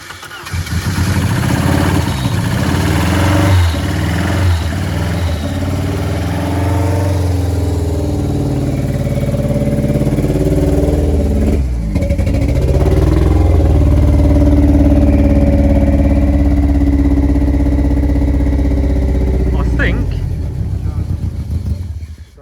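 Four-cylinder engine of a 34-year-old Ford Sierra Cosworth cranking and then running rough on two or three cylinders, a loud, close, uneven idle that lasts throughout, with people talking nearby.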